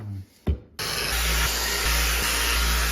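A polisher fitted with a light polishing pad starts up after a brief pause and runs with a loud, steady whir while buffing old chrome, its tone dipping slightly a few times under load.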